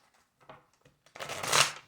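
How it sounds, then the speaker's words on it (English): Tarot cards being shuffled by hand: a few soft, scattered riffles and taps, then a louder, fuller burst of card shuffling near the end, close and otherwise quiet. "One more shuffle."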